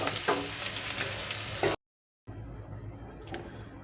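Mushroom pieces and onions fry in butter with a steady, close sizzle, a louder burst as they go in, then a brief total silence before a quieter, even frying resumes.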